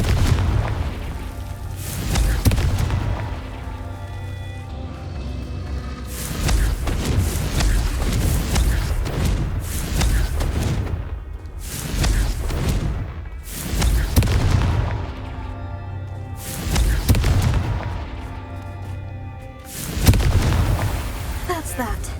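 Repeated Confringo spell explosions in the video game Hogwarts Legacy, a series of heavy booming blasts a few seconds apart with rumbling tails, and a voice speaking between them.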